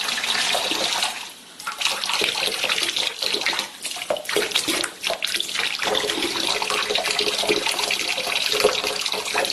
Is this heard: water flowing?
yes